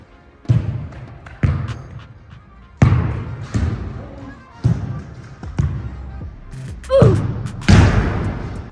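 Football kicks in a penalty-style shootout challenge, five shots each: a series of about seven sharp, loud thumps spaced irregularly, each followed by a short decay, with voices faintly in the background.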